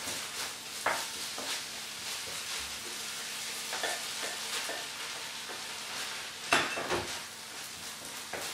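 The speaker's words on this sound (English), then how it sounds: "that's why you hear it sort of frying a little bit loud" Food for a quick evening meal fries steadily in a pan on a hob, a continuous loud sizzle with occasional sharper pops and crackles throughout.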